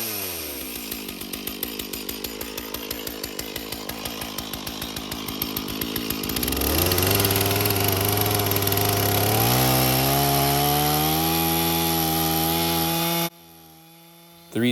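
A Stihl chainsaw cuts wood lengthwise while milling 12-foot posts, starting as a ragged rasping cut that rises into a loud, steady high-revving whine with changes in pitch, then briefly drops to idle near the end.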